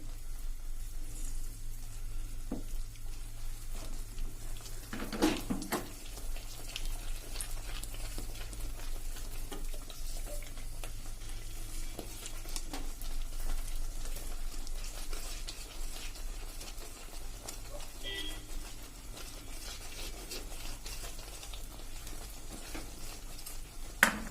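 Besan flour is stirred in ghee in a pan for besan mesub, giving a continuous soft scraping and sizzle with occasional metallic clinks of the utensil against the pan, up close and without talk.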